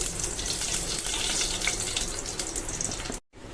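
Cooking oil poured into a pot on the stove for khichuri, a steady close splashing pour with a faint sizzle that runs for about three seconds and then cuts off abruptly.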